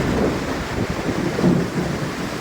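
Heavy rain pours down steadily during a thunderstorm in Caloocan, a loud continuous roar with low rumbling thunder and gusty wind noise beneath it.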